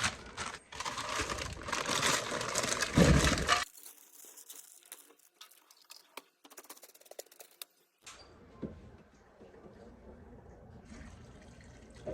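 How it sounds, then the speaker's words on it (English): Water runs and splashes into a pot of potatoes for a few seconds, then quieter clinks and trickles follow, close by. "I'm only going to fill water to cover the potatoes"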